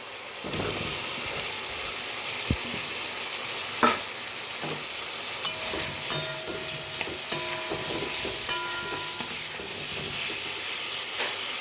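Salt-boiled, peeled gathi kochu taro fries in spiced oil for a dom curry with a constant sizzle. Intermittent clinks and scrapes of a stirring spoon punctuate the hiss.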